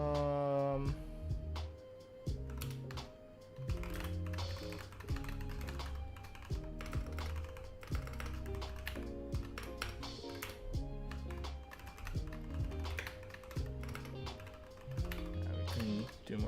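Fingers tap rapidly on a computer keyboard in uneven bursts of clicks, close by, with a soft tonal background running underneath throughout.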